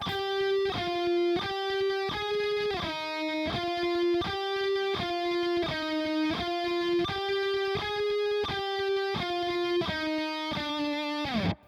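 A distorted electric guitar plays the solo from a song, a steady run of sustained, buzzing notes in a repeating melodic pattern, loud and close.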